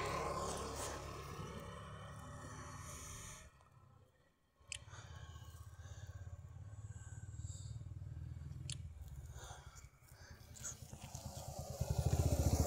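A Bajaj Pulsar NS 200 motorcycle engine idles close by with a deep, throbbing exhaust rumble, dropping briefly near the middle before returning and swelling louder with a rev at the end.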